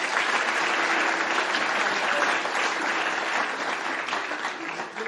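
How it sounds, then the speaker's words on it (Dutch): Audience applause at a spatial planning presentation event, sustained dense clapping from a large indoor crowd, loud and steady before easing slightly near the end. "Geef ze een applaus."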